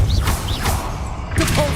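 A Depulso force spell is cast in Hogwarts Legacy, heard as a brief whooshing, thudding burst. A second swish follows near the end over a steady low game backdrop.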